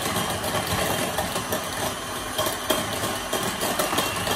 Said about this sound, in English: I am going to take my electric hand mixer and I'm gonna beat this up.